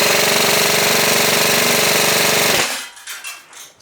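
An Umarex VFC Heckler & Koch HK416 V2 AEG airsoft rifle fires a long full-auto burst of BBs, a loud rapid mechanical buzzing rattle that stops abruptly, followed by a few faint clatters.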